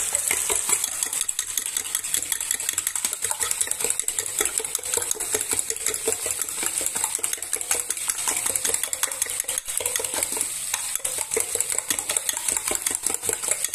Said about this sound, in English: And just whisk this up with a fork